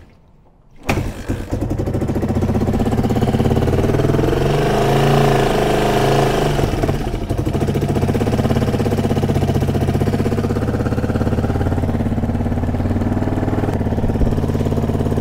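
Kawasaki KL250 motorcycle engine firing up and then idling on choke, a loud, close, steady thrumming run that holds for the rest of the clip with slight rises in pitch.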